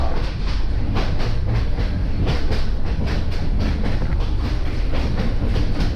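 Loud rhythmic clickety-clack of a passenger train on the railway to Myitkyina in northern Myanmar, heard from inside the carriage with a steady rumble and regular wheel beats, no voices.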